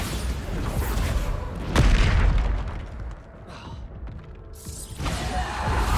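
The Bombarda blasting spell detonates in Hogwarts Legacy with a heavy, booming explosion, followed by rumbling debris and clattering, then a second burst of noise near the end.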